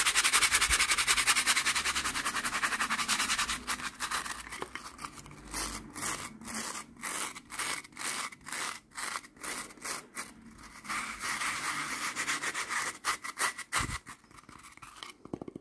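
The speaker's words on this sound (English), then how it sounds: "I think I need to get a new nail brush." A frayed, worn nail brush scratched and brushed in rapid rhythmic strokes, close and crisp, with bursts of fast repeated scrubbing and no talking.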